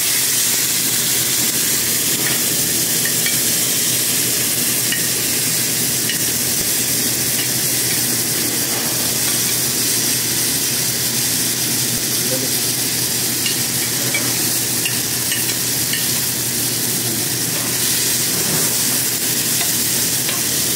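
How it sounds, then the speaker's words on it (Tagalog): Tomatoes sauté in a pan for a Filipino squid adobo with zucchini, giving a loud, steady frying hiss with faint stirring scrapes throughout. "So ilagay na natin yung kamatis."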